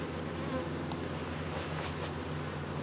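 Dense, steady buzzing of many honey bees swarming close by at a hive, a continuous droning hum with no talking.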